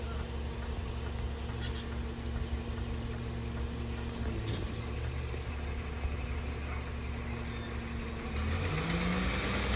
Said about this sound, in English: There goes garbage truck 28.